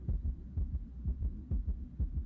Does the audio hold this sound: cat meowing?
no